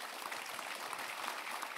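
Audience applause for Marine Tondelier, national secretary of Europe Écologie Les Verts, at a political campus event; steady, dense clapping at a moderate distance, fairly faint, with no voices over it.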